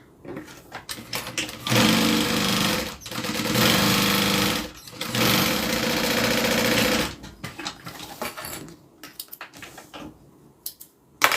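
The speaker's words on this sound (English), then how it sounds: "And then I'm going to open this up and do a top stitch." A sewing machine top stitches a zippered fabric bag, running in three steady bursts of rapid, loud mechanical stitching with short pauses between, then quieter handling clicks and rustles toward the end.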